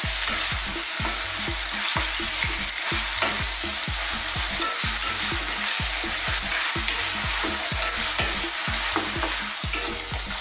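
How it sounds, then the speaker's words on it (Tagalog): Beef sizzles and browns in a hot pan for salpicao, a dense, continuous frying hiss punctuated by regular scraping stirs, loud and close with no talking. "So hihintayin lang po natin na mag-brown itong ating beef"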